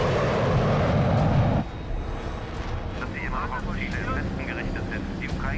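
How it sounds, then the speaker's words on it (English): A jet aircraft roars overhead, loud for the first second and a half before cutting off abruptly into a lower rumble while a voice talks over it. "Some goddamn Nazi plane. They've got jets too?"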